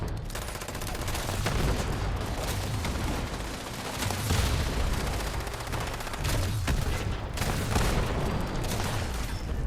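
Dense, overlapping gunfire in Fallout 76 pounds away, repeated heavy shots and booms blending into a loud continuous barrage with no voices over it.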